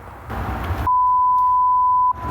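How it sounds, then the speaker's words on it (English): Countdown warning tone from the Recon-3D iPhone LiDAR scanning app, a single steady electronic beep held for over a second, loud and clear after a stretch of background noise. "Okay, so you can hear the tone through the phone."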